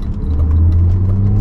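A BMW Z3 3.0i engine drones loud and close with a deep steady rumble and a mechanical, metallic edge, running continuously without talk.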